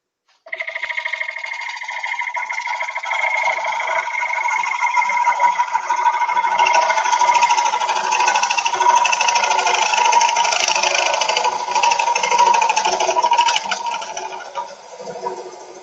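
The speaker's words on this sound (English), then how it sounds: "what speed are you running the lathe at, please?" Woodturning lathe spinning at just under 800 rpm, giving a steady, sustained mechanical hum with a continuous mid-range whine that holds evenly for about fifteen seconds.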